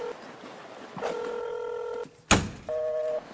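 Dial tones from a phone placing a call, with a few distinct beeping tones in short bursts separated by a brief clunk, close and clear.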